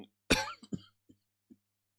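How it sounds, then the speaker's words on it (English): A single sharp, dry cough rings out close up, followed by a few small throaty catches and breaths trailing off into silence. "very poorly timed dry cough"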